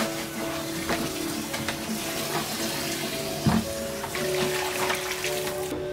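A garden hose runs water outdoors with a steady, fairly soft splashing flow, close by, with a brief louder splash partway through and faint background sounds.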